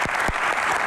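Audience applause after a motivational talk on an Indonesian Q&A programme, a steady burst of many hands clapping together, filling the whole short moment with no voices on top.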